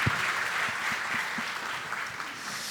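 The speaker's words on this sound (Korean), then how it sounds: "박수로 한번 초청을 드리도록 하겠습니다." Audience at a Korean AI conference session clapping steadily to welcome four presenters to the stage, the sound dense and even, with a few nearby hand claps standing out.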